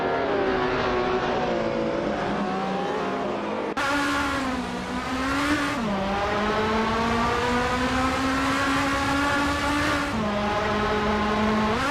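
Race cars in a racing video game roar continuously with rising and falling engine pitch, shifting gears and sweeping past, loud and steady throughout with no talk.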